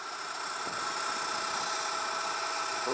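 KO F-Spec motor on an ERT BAC4K electric bike pulling under throttle, a steady whine with a faint vibrating hum held for a few seconds, rising slightly at the end, with no talking.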